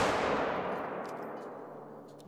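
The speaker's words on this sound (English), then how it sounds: "I'll shoot that again." One loud rifle gunshot in the hunting game theHunter: Call of the Wild, a heavy boom at the start that rolls away in a long fading echo, followed by faint clicks.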